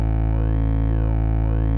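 A Behringer synthesizer holds a loud, sustained droning tone whose pitch sweeps smoothly up and down with a slow sine-wave LFO, cycling about twice with no talking.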